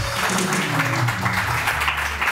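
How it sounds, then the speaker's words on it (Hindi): Steady, dense applause from a studio audience greeting a guest on a Pakistani morning television show, loud and continuous throughout with no break. "ताली होनी चाहिए बहन के लिए।"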